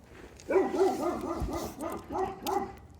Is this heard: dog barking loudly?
yes